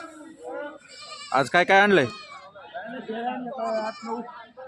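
Goats bleat sharply in a burst of several calls at a busy livestock market, with people talking close by before and after.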